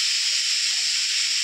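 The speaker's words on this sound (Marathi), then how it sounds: "दुसरी शिट्टी चालू आहे कुकरची." Pressure cooker whistling while cooking rice, a loud steady high-pitched hissing whistle that continues unbroken throughout, the second whistle of the cook.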